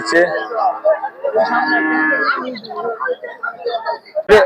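Buffalo at a busy cattle market low in loud, drawn-out moos close by, with people talking and bargaining over the top.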